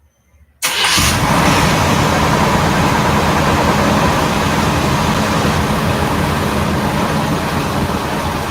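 A carbureted engine with an electric choke starts up and runs rough, a dense, loud, continuous roar that holds steady close by.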